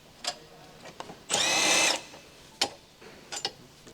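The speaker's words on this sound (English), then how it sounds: "Use a 10mm short socket with an electric impact wrench to remove the mounting bolts connecting the bracket" An electric impact wrench with a 10mm short socket removes mounting bolts from a control-arm bracket on a 2015 Ford Escape, giving one loud, steady half-second burst amid sharp metallic clicks and taps nearby.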